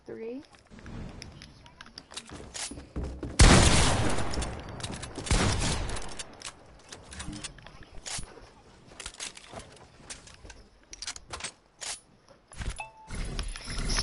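SMG gunfire in a video game comes in fast rattling bursts, loudest early on and then in scattered shorter volleys, mixed with a person talking and game noise.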